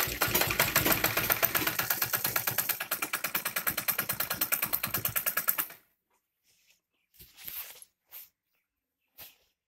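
A sewing machine runs steadily for about six seconds while stitching a tulip salwar, its rapid needle chatter rising and falling in rhythmic pulses, then stops, leaving a few faint handling thumps and rustles.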